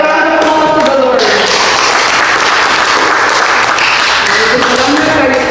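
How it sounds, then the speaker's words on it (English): A church congregation at a Father's Day Sunday worship service breaks into loud, sustained applause. Speech and singing-like voices fade out as the clapping swells, then return faintly at the end. "Let's give a our round of applause to the Lord"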